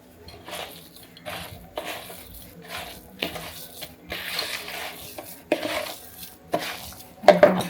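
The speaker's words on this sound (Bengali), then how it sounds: "এখন সুন্দরভাবে সব কিছু মাখিয়ে নেব" Biscuit dough being mixed in a bowl after baking powder goes in, with irregular scraping and clinking of a utensil against the bowl, close and moderately loud, plus a few sharper knocks near the end.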